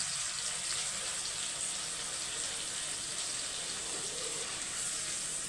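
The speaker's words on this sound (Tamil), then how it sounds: "ஒரு கால் கிளாஸ் தண்ணி ஊற்றி" Water pours steadily into a pan of ground ginger, garlic, green chilli and shallot paste, giving a continuous soft rushing splash with faint sizzling underneath and no voice.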